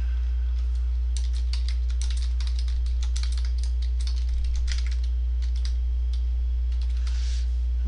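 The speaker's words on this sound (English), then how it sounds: "I'll move this into place, and I'll type in" Rapid typing on a computer keyboard while entering text in a design program, a close, busy run of light key clicks in bursts with brief pauses.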